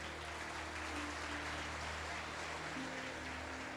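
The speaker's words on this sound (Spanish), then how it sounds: "Aplauda fuerte al Señor." A church congregation claps loudly and continuously during a sermon, a dense, steady wash of applause from many hands with no break.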